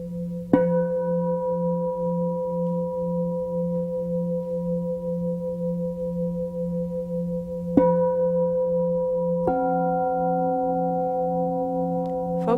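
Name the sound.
tones of gongs for meditation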